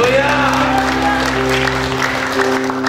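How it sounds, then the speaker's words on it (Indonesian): A church congregation claps together under sustained music tones during a worship service, the applause blending into a loud, steady wash of sound. "Berikan tepuk tangan bagi Tuhan yang hebat itu"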